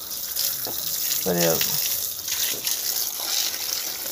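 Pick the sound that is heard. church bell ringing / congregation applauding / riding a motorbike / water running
water running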